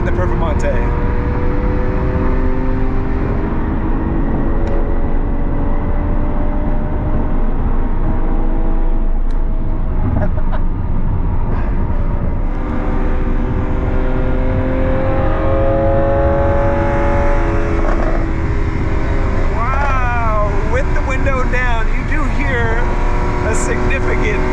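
A Lamborghini Aventador SVJ's naturally aspirated V12 drones loud and steady throughout the drive, with its engine note rising and falling under cabin talk.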